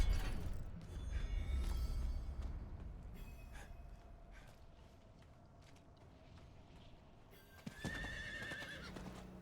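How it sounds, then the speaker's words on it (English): A horse in the video game Diablo 4 whinnies loudly near the start, then a steady clip-clop of hooves follows under the game's ambient sound, with another burst of hoofbeats near the end. "I'll have my horse because my other character got it"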